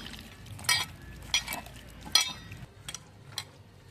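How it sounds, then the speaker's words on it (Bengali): Raw meat worked by hand with ground spices, garam masala and salt, giving soft squelching and rustling pulses with a few sharp clinks, close and moderately quiet, with no speech. "সব কিছু মশলা মাংসর সঙ্গে বেশ সুন্দর করে মেখে নিচ্ছি।"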